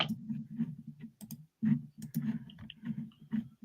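Movie title typed on a computer keyboard: sparse, close key clicks in short irregular clusters over a low steady hum, with no talking.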